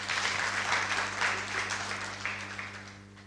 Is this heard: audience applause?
yes